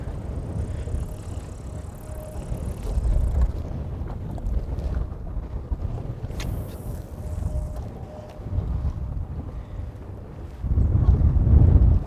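Gusty wind buffets the microphone out on an open fishing boat, a rumbling low roar that rises and falls in waves and swells louder near the end.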